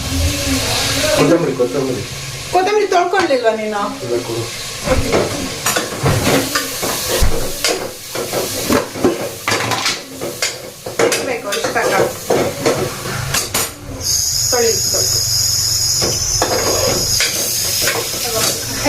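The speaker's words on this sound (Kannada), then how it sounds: "ಅದಕ್ಕೆ ಅರಿಶಿನ ಮತ್ತು ಧನಿಯಾ ಪುಡಿ ಫ್ರೆಶ್ಶಾಗಿ ಗ ರುಬ್ಕೊಂಡಿದ್ದಂಥ ಧನಿಯಾ ಪುಡಿ ಹಾಕ್ಕೊಂಡು ಮಿಕ್ಸ್ ಮಾಡ್ಕೊಳ್ತಿದ್ದಾನೆ" Turmeric and freshly ground coriander powder are stirred into sizzling tomatoes in a pan while cooking mushroom biryani, with steady frying hiss and scraping stirs under intermittent talking.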